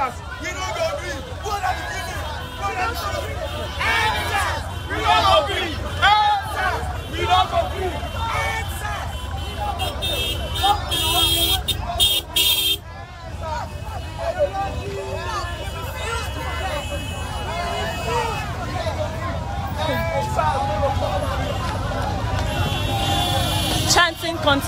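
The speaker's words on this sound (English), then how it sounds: "Chanting continues at the Lekki Toll Plaza" Protesters chanting at Lekki Toll Plaza in Lagos, a large crowd's voices rising and falling continuously with babble, shouting and passing vehicles, loud and close throughout.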